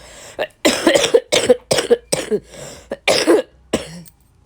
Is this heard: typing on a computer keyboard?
no